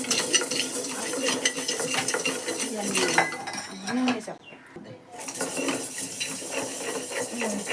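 A utensil scrapes and clinks steadily against a pan as fenugreek seeds roast and are stirred for a homemade village hair oil, close and continuous with a brief quiet gap midway.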